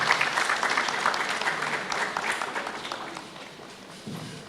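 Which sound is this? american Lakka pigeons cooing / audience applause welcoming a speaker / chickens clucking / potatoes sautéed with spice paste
audience applause welcoming a speaker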